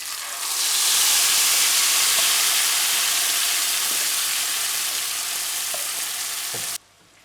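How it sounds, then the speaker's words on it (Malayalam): Ground carrot paste hits hot oil with frying garlic and bursts into a loud, continuous close sizzle that holds steady before cutting off abruptly. "നമ്മൾ അരച്ച് വെച്ചിരിക്കുന്ന ക്യാരറ്റിൻ്റെ കൂട്ടിലേക്ക് ചേർക്കുകയാണ്"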